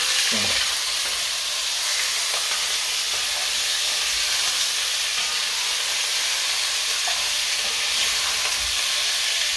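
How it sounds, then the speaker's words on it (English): Lamb pieces for a restaurant-style Indian curry fry in a pan with a loud, continuous sizzle and hiss as they are stirred, steady from start to finish with no talk. "Drop it in, get it all in there, and then just start stirring it"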